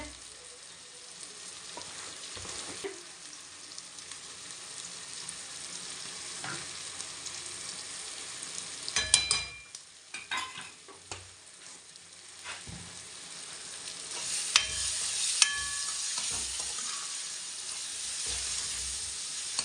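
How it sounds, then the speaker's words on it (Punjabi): Spices and green chilies are stirred and fried in a pan for baingan bharta, producing a quiet, steady sizzle with occasional scraping and clinks of the spoon against the pan, no voices. "ਸਾਰੇ ਮਸਾਲਿਆਂ ਨੂੰ ਆਪਾਂ ਚੰਗੀ ਤਰ੍ਹਾਂ ਮਿਕਸ ਕਰ ਲੈਂਦੇ ਆ"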